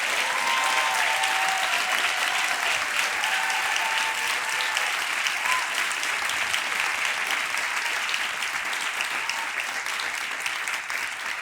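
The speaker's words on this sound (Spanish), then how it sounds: "aplaude al Rey de Gloria" Congregation applauding during a church sermon, a long, steady wash of many hands clapping at moderate volume, continuous and even from start to finish with no talk over it.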